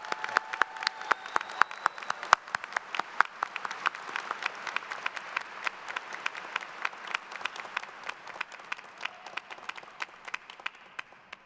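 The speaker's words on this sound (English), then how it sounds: "So let's give a round of applause to Associate Dean Franzoni." Audience applause at a Duke Engineering undergraduate diploma ceremony, many hands clapping in a sharp, crackling patter that holds steady, fairly distant and moderately loud.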